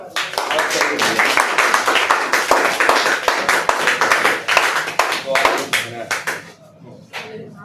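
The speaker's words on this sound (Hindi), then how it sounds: "एक बार ताली मारो" Schoolchildren clapping together in a classroom, a burst of rapid, uneven hand claps lasting several seconds that thins out toward the end, with voices mixed in.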